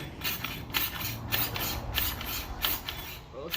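Pull starter mechanism on a Moto 4 ATV engaging during a rebuild, a continuous close ratcheting and grinding whir with regular rhythmic pulses throughout, without speech.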